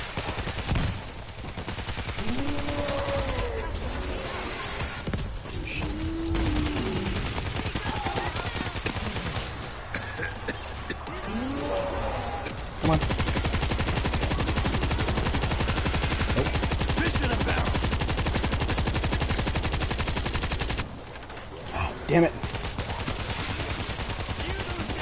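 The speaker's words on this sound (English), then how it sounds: "Shooting them as much as I can." Rapid automatic gunfire mowing down zombie hordes in World War Z rattles in long sustained bursts, loud and near, with short pauses between strings of shots and faint voices underneath.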